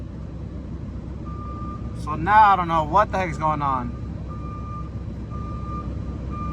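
A truck backs up to a loading dock door, its reversing beeper sounding as a steady high tone before and after a stretch of talk in the cab.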